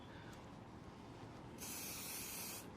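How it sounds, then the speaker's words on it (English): A steady hiss of an aerosol hairspray can sprays for about a second, close up, over faint background noise. "I'm just spraying this at the scalp, guys, just for some separation"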